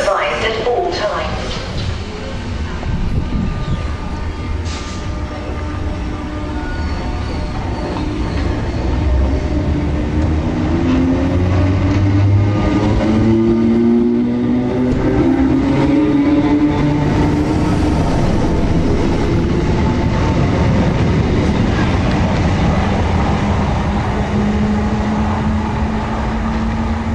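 A train runs through a railway station in south London, a loud, sustained rumble with rolling wheel noise and shifting metallic squeals and whines that build and hold for the whole stretch, close by.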